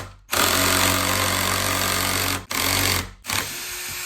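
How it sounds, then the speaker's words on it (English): A power drill whirs loudly and steadily, stops briefly, restarts, stops again, then runs once more, working into wood close by, drilling holes for stair balusters and struggling for power. "Drill doesn't have enough juice."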